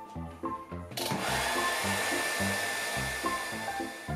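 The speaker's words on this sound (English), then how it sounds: "I'm going to use a hairdryer switched on to cold air" A hairdryer set to cold air switches on partway through and blows steadily with a loud whooshing roar, preceded by a brief low rhythmic rumble.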